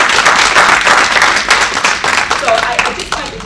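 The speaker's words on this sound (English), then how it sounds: "Can I get a hand clap?" An audience at a women-in-construction summit claps together in a thick, continuous burst of many hands, loud and close, with voices mixed faintly into the noise.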